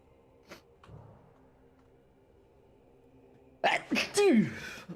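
A sharp sneeze bursts out after a few seconds of quiet background, loud and close, with a faint vocal sound afterward.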